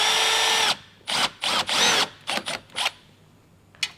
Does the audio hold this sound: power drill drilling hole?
yes